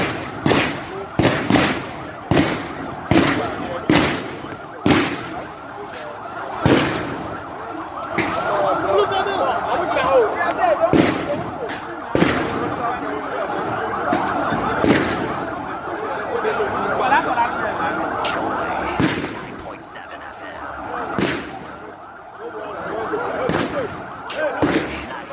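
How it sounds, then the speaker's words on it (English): Sharp, loud gunshots crack out in a rapid irregular series during street clashes between youth and police in Nkranza, Ghana, then scatter more sparsely over a noisy outdoor crowd and distant commotion. "those were gunshots from Nkranza yesterday as youth clashed with the police"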